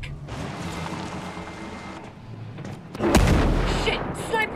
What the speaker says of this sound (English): Mortars! Hit the deck!